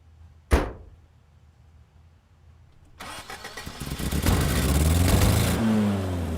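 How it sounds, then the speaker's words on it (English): In a car chase sound effects edit, a sharp impact rings out and fades, then after a quiet pause an engine starts and revs up loudly, building to a sustained roar with mechanical clatter and a rising whine near the end. "Got it. Gargoyles car chase."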